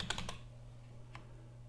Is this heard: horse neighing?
no